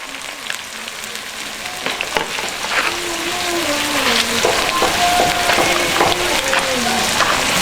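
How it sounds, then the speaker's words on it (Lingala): Cassava leaves fry in palm oil in a pan with a steady sizzle that grows louder, broken by clattering stirs and occasional crackles. "tozotia sikoyo matembe"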